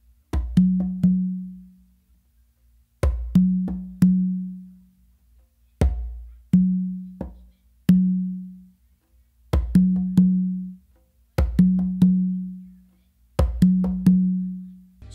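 Pachanga rhythm on congas and tumba, played by hand with tips and open tones. A steady repeating cycle of crisp slaps and ringing low open tones sounds close and dry for about fifteen seconds, with no talking.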